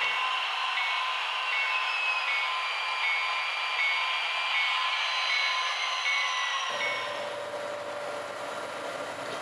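Model train running on a model railroad layout during an operating session, a steady whining electric motor hum with faint tonal whistles, continuous and close, shifting in tone partway through.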